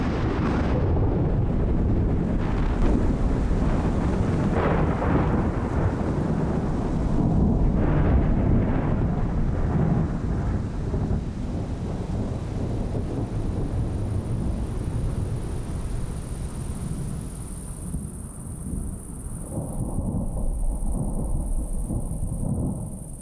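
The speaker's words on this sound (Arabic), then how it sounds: "تطلق العواصف في أغلب الأحيان قواها الهائلة بين ليلة وضحاها." A storm with thunder and wind gives a loud, continuous rumbling roar with surging gusts that eases slightly toward the end.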